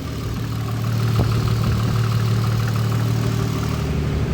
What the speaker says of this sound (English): This is Lance's Supra mk4, fully built 2JZ, good size Borg Warner turbo.